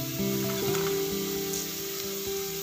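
Carrots and other vegetables sautéing in hot oil for samba wheat kichadi, a steady close sizzle with faint stirring scrapes under a sustained musical tone, no voices.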